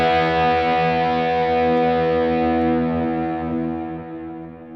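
Distorted electric guitar through a Headrush MX5 effects unit, one loud, thick chord ringing out and slowly fading over several seconds, with no talking.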